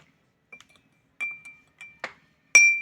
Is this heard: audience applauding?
no